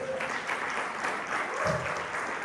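A church congregation claps together, a soft, even patter of hands from the room with a faint voice briefly mixed in.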